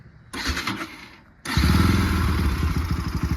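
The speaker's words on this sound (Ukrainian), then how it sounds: "Зажимаю сцеплення і заводиш мотоцикл" A Bajaj Pulsar NS200 motorcycle engine cranks and catches at close range, then settles into a steady, loud, throbbing idle with a fast pulsing beat.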